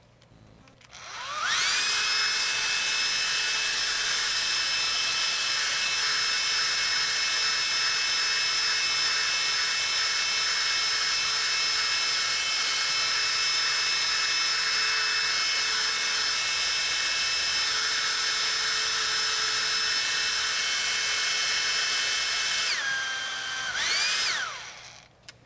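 A blow dryer runs steadily for about twenty seconds, a loud, even whirring hiss with a high whine, drying paint and glazing varnish on a stamped journal cover, then shuts off.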